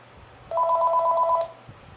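Telephone ringing in the SNES Jeopardy video game, a single electronic warbling ring of about one second, clear over a quiet low hum.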